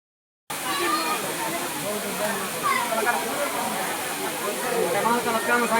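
A low-flowing waterfall near the Ramling temple pours as a steady, broad rushing hiss that fills the whole clip after a brief silent start, with faint voices mixed in underneath.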